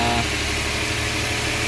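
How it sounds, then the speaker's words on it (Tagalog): A freshly overhauled Suzuki Multicab K6A engine idles, a loud, steady mechanical hum with a smooth, even rhythm heard close up and without talk. "Nabuo na yung makina namin. Tinitis na namin yung pag-andar."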